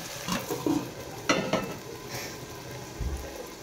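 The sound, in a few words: stirring food in a cooking pan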